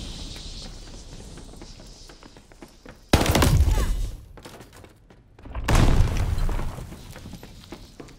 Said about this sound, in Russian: Бросаю оглушающую!